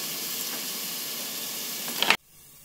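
Onions sautéing in hot oil in a pan while making instant noodles: a continuous close hiss and sizzle that swells briefly, then cuts off abruptly, leaving faint room quiet.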